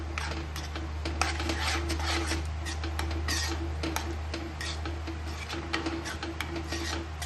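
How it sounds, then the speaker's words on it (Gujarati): Grated ingredients for palak paneer are stirred together in a dish, giving soft, continuous scraping and rubbing with irregular small clicks of a utensil against the bowl over a low steady hum. "હવે આમાં મિક્સ કરી લેશું બધું."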